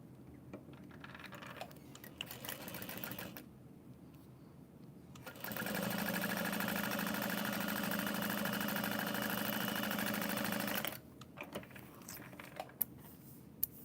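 A sewing machine topstitches a seam with a half-inch seam allowance. Its motor whirs in a short burst, pauses, then runs in a longer, steady, louder stretch before stopping, followed by a few light clicks.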